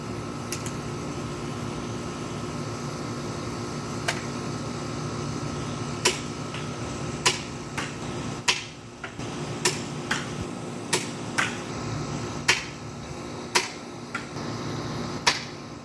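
A Nerf Sharpfire blaster fitted with a brass breech mod fires foam darts, giving about a dozen sharp clicks and snaps at uneven intervals over a steady fan-like hum, close and fairly loud.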